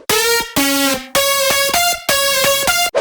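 Dry future house synth lead without effects playing a short bright melodic phrase of sharp-edged, buzzy sustained notes with abrupt gaps between them, loud and upfront.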